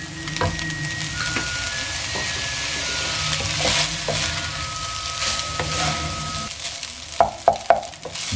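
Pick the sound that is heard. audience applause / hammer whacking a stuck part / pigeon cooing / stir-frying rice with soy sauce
stir-frying rice with soy sauce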